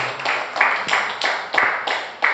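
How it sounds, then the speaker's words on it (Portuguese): Church congregation applauding during a worship service, a steady crowd clapping with rhythmic surges and a few sharper claps, close and fairly loud. "Você pode aplaudir o Senhor Jesus?"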